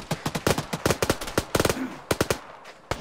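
MG3 machine gun fire from a tower in the video game Arma 3: rapid bursts of loud, sharp shots in uneven clusters, close and dominant, with short pauses between volleys and no talk.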